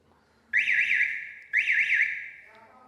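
Electronic alarm sounding loudly indoors, two bursts of a high warbling siren tone about a second each, with a quieter tail and faint background voices.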